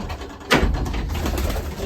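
Racing pigeons in a loft holding about eighteen birds, with a single soft coo rising near the start and then low, continuous murmuring from the birds around it.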